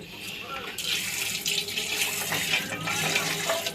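Soda water is poured off soaked chickpeas (chanay) in a home kitchen, a steady splashing, running-water sound that stays close and fairly loud throughout, with no speech over it.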